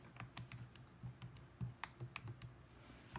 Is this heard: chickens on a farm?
no